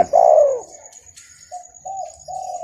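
A trained dove coos close by, one long rising-falling coo followed by a series of shorter lower coos. A thin steady high tone runs underneath.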